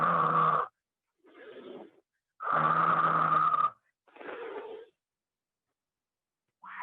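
A storyteller's voice imitates loud snoring at a children's event, with drawn-out rasping snores alternating with softer breathy exhales over several cycles, close and clear with silent pauses between.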